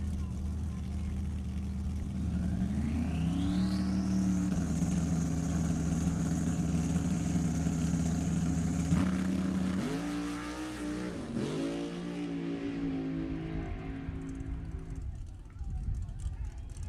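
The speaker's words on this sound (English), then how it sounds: "Troy Baugh back in his Instigator Outlaw 68 Camaro over here in the right." Drag racing at Sacramento Raceway, with a 1968 Camaro in the right lane and a 1969 Camaro in the left, as loud engines roar and rise in pitch during a launch down the strip. A commentator talks throughout.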